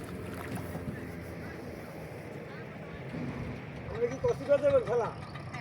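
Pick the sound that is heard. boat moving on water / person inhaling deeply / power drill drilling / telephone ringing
boat moving on water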